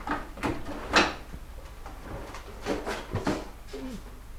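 A drawer opened and rummaged through to find a photograph in a home. Several soft knocks and sliding bumps come in an uneven series, quiet and close, with no talk.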